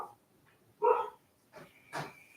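A dog barks out in a garden, three separate woofs spaced over a couple of seconds, moderately close and clear against quiet surroundings.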